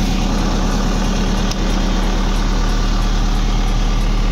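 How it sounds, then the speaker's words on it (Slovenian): A Zetor 7245 tractor engine idles after a cold start at -7°C, a loud, close diesel chug with a steady, even rhythm throughout. "Traktor smo vžgali, dela odlično, tako da zdaj ga bomo pa ugasnili."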